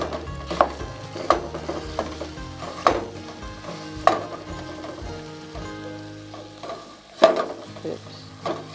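Italian sausage being broken up in a pan, with stirring and scraping clatters every second or so over a soft, steady sizzle.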